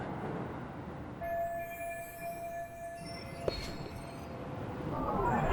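A commuter train runs steadily in Lost Judgment, a constant rolling rumble with long, thin wheel-squeal tones drawn out over it and a sharp clank near the middle, swelling slightly louder toward the end.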